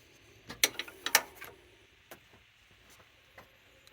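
A bolt is tightened on a 1994 Dodge Ram 3500 V10 engine with a ratchet, giving a cluster of sharp metallic clicks followed by a few sparser, fainter ticks, close and alone.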